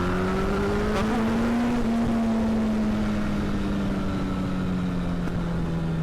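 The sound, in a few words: Yamaha FZ8 motorcycle engine with Accra exhaust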